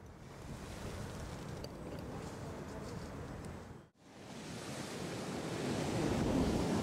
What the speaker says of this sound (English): It's a bit blowy. Very blowy. That sea's a bit choppy.